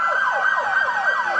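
Police car sirens sound during an Independence Day parade in Riverside, a continuous rapidly sweeping wail that repeats about every fifth of a second, loud and steady throughout with no voices.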